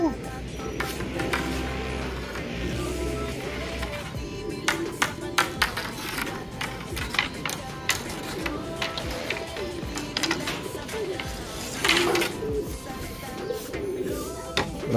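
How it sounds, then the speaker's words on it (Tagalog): Pigeons gather around a loft trapdoor, soft cooing mixed with wing flutters and clattering knocks throughout, under occasional speech-like sounds and steady background noise. "Puro nagtambay sa trapdoor yung mga ibon natin."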